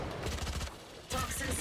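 Rapid bursts of gunfire in the video game Valorant during a professional match, a rattling volley that pauses briefly and then resumes, set against game ambience.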